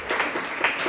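Congregation clapping in a church service, a steady dense patter of many hands close by with no voices over it.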